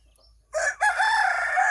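A single rooster crows loudly and clearly after a moment of near silence, its call rising then holding in a long drawn-out note.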